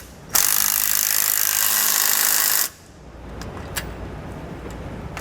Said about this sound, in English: We'll use a 15mm socket and wrench for the hex bolts.